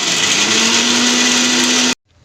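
A mixer grinder whirs loud and steady, grinding garlic and coriander masala, a high whining motor hum that runs for about two seconds before cutting off abruptly.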